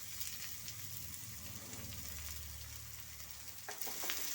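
Onions, green chili and capsicum fry in a pan with a steady, close hissing sizzle, broken near the end by a few stirring scrapes and clinks.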